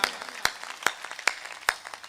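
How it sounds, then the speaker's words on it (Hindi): Live audience at a Hindi comic poetry performance claps in a few sharp, evenly spaced bursts, close and distinct against a quiet background. "एक बार तालियां बजाओ मस्ती में"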